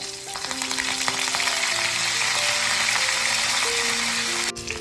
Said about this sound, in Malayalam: നമുക്കിതിലേക്ക് കുറച്ച് പച്ചമുളക് ചേർത്തെടുക്കാം അതുപോലെ തന്നെ കുറച്ച് വേപ്പില